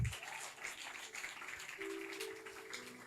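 Congregation applauding in a church, steady crowd clapping at moderate distance with a few voices calling out over it.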